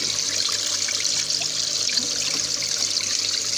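Water rushes continuously through the siphon of a backyard aquaponics tank raising catfish fingerlings, a steady close gurgling trickle with no pauses and no voices.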